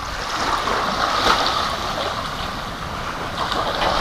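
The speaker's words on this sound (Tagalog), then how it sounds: "so papalaki na yung tubig dito yung dagat tubig dagat so mag high tide na siya" Sea waves wash onto a beach as the tide rises, a steady, loud rushing surf with wind noise and no voices.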